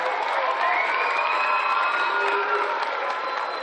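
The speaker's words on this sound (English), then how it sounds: "we owe them a big round of applause" A large audience at a Hall of Fame presentation in Canton applauds and cheers the football referee crew. The roar of clapping and cheering is loud, dense and steady from start to finish.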